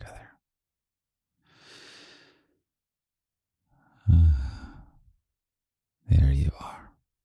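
Slow, deep breaths taken in a calm, intimate setting: a soft exhale around two seconds, then two louder, close breaths near four and six seconds, with quiet gaps between them.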